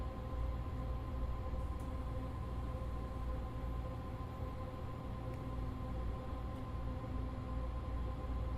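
Train in the Train Sim World 2 video game, a steady low rumble of the running train with a constant tonal hum, moderately loud and unbroken, with faint occasional clicks.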